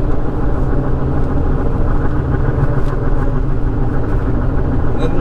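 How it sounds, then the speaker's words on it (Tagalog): Mud-terrain tires on a Ford Ranger Wildtrak 4x4 rolling along the road, making a loud, steady low roar and rumble that runs unbroken throughout, with no talking. "Naririnig niyo ba yung ingay ng gulong niya?"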